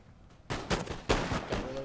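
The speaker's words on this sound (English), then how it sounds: "Here my guard seaman should be able to get off a volley on those Coldstream" Musket volley in the Napoleon Total War video game: several rapid, overlapping loud cracks fire in close succession after a brief quiet start, with battle noise and rumble trailing under them.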